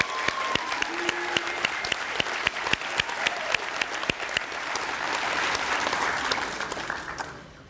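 An audience applauds graduates at the Dover Adult Learning Center's 2017 adult-education graduation ceremony. The dense, steady clapping swells to a peak before tapering off near the end, with a few louder individual claps standing out.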